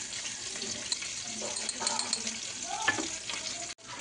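Food frying in a pan gives a steady sizzle with scraping stir sounds and occasional clinks, close and moderately loud, mixed with faint running water.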